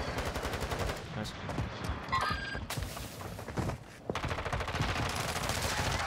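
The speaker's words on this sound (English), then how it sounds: "Where am I getting shot from?" Rapid bursts of automatic gunfire and single shots crackle from a Call of Duty match, loud and near, with brief pauses between volleys.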